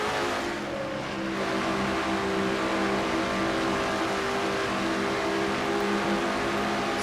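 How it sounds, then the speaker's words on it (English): Onboard engine of a race car in a racing video game, a Castrol GTX Cup Series race at the Motorcraft 500, revving hard above 9,000 RPM. A loud, steady, buzzing engine drone runs through the whole stretch with no voices. "On board with the 16th place car, Charles Sanford."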